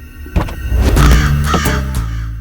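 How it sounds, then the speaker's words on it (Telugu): A black crow caws outdoors, several harsh, close calls following one another in quick succession over a couple of seconds, loud and clear with no talking. "ఓ నల్ల కాకి దిగుతుంది చూడు"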